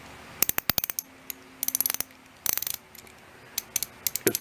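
A stiff socket ratchet is turned in a workshop, its pawl clicking in rapid bursts of sharp ticks with short pauses between, close and crisp with no talking.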